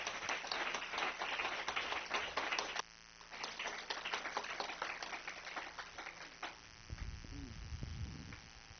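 Church congregation applauding and cheering at an evening worship service, steady dense clapping that drops slightly in level partway through, then a brief low hum near the end.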